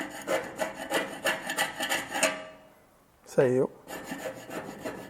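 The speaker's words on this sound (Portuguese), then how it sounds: "Vamos dar uma raspadinha neles agora para ver." Repeated scraping strokes across painted Jeep Willys chassis test pieces coated in Hammerite and red-lead primer, a rhythmic rasping run followed by a pause, a short voiced exclamation, then more scraping.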